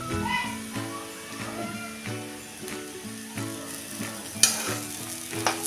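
Pithla, a gram flour dish with coriander and grated coconut, stirred in a pan: repeated rhythmic scraping strokes over a soft sizzle, close, with a couple of sharper clinks.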